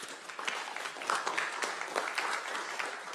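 An audience at a city council meeting applauds a Youth Commission member, giving steady, moderately loud clapping that fills about three seconds without a break.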